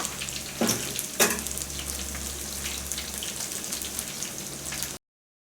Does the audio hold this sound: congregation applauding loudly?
no